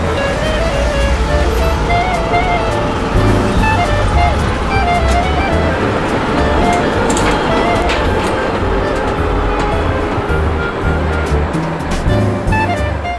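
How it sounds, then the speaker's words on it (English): Old open wooden tram car riding bumpily through the streets of Riga, Latvia, a continuous loud rumble and rattle of wheels and carriage with faint squeals, under a narrator's voice. "A nostalgic tram leads to the edge of the city."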